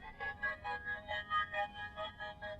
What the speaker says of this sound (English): I just added one more thing to the melody, and that was tremolator.